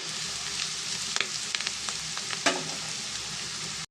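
Okra frying in a pan, a low steady sizzle with a few quick scrapes and taps of a spoon while it is stirred, faint and close, without speech.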